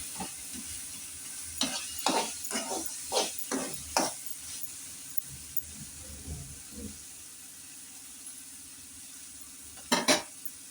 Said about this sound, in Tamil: இந்த இதுலேயே வந்து நல்லா கிண்டி நல்லா மசிய வச்சிடணும் வெங்காயம் தக்காளி பச்சை மிளகா மூணுமே